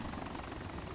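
A video-game helicopter flies close overhead, its dense rotor thump and engine roar steady and loud throughout the short stretch with no voices.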